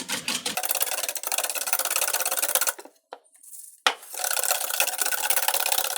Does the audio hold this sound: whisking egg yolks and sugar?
yes